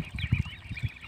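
Ducks feeding contentedly in an open village field in the morning, giving a few short, low quacks and honks in quick bursts, fairly close and moderately loud.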